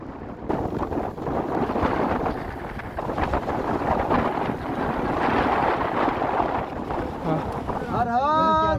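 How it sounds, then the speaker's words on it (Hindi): Roaring snowstorm wind buffets the microphone on the Kedarkantha mountain trek, loud and constant throughout, with a voice briefly heard near the end. "बर्फीला तूफान शुरू हो गया है।"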